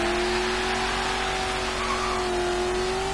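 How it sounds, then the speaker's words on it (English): A V8 HSV GTSR in Forza Horizon 3, about 300 horsepower, drones steadily throughout, a sustained engine note with rising pitch as it accelerates, loud and close with no talk over it. "This thing has a V8, makes about 300 or so horsepower by default."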